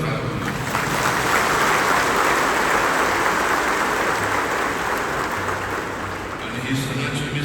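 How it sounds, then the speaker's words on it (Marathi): Loud, steady crowd applause fills a church feast mass for Carmel Mata at Velankanni, a dense wash of clapping that holds for about seven seconds without a break. "जोरदार टाळ्या"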